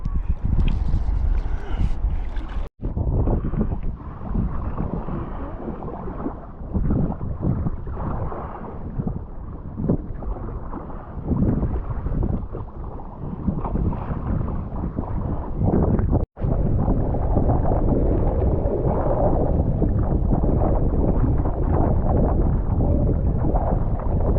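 Strong wind rushes steadily at the seashore near Palanga, a dense buffeting roar across the microphone with waves underneath, unbroken apart from two brief dropouts.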